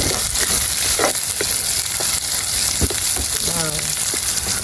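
Onions, garlic and slit green chillies sauté in a pan with a loud, steady sizzle and occasional scraping stirs; a voice speaks briefly over the frying.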